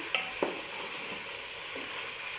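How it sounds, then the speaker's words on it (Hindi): Chicken frying in a pan for chicken korma, a soft steady sizzle with two quick utensil clinks near the start, fairly faint and without talk. "चिकन ज़रा फ्राई हो जाए"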